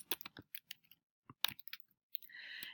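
Sparse clicks of a computer keyboard as a few keys are tapped, quiet and close, ending in a short brighter rustle.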